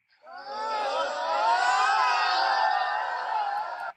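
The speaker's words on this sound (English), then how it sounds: "Crowd yelling." A crowd sound effect of many voices yelling and cheering together, loud and continuous, rising quickly and holding steady for about four seconds before cutting off abruptly.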